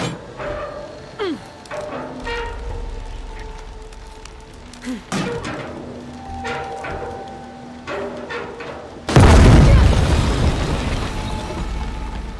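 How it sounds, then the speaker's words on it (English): A cannon fires in the video game Shadow of the Tomb Raider: a sudden loud, rumbling boom near the end, after quieter in-game clicks, thuds and ambience. "If we fire the cannon where it is right now,"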